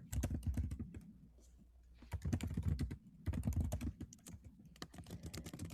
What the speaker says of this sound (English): As we're all typing.